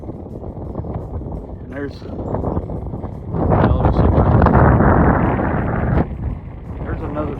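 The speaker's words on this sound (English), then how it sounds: "The wind is blowing really bad" Strong gusts roar across the microphone at Goblin Valley State Park in Utah, a heavy rumbling buffet that swells louder midway and stays constant beneath someone talking throughout.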